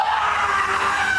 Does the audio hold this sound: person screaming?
yes